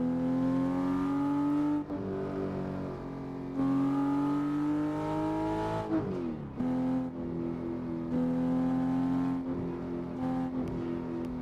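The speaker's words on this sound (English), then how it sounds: "I'm driving the Porsche 911 GT3 here on No Hesi" A Porsche 911 GT3 in the Assetto Corsa game, played on a No Hesi server, revs hard through repeated upshifts, its engine whine climbing and dropping at each gear change, loud and alone.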